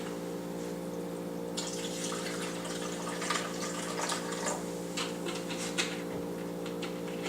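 Seltzer water pours into a glass of wine, a soft fizzing splash that starts partway in and continues unevenly, heard over a steady low electrical hum.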